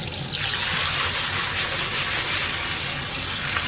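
Running tap water rinsing food in a kitchen during cooking, a steady rushing gush that continues unbroken throughout at close range.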